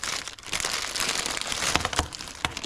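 Crinkly plastic packaging around fishing lures is cut open with scissors, giving close, continuous crackling and crumpling with a few sharper snips.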